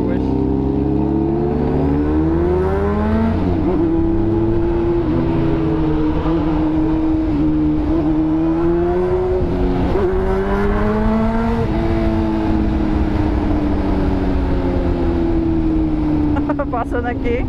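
A Yamaha XJ6 motorcycle engine revs loudly in rising and falling pulls, heard close and continuous, with a modified-exhaust Hornet also mentioned nearby; a person talks over much of the engine noise.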